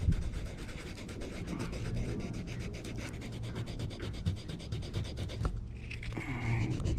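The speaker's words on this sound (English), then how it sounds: "So I'm going to finish sanding it up here with this emery." Steady rhythmic rasping of emery cloth rubbed back and forth on a boot toe, close and continuous, with a brief pause near the end.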